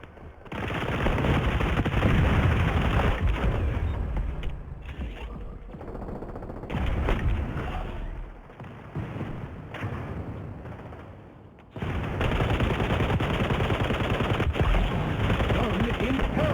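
Gunfire in the video game XDefiant: sustained automatic bursts, loud and dense, broken by short pauses near the middle, with game voice prompts faintly underneath.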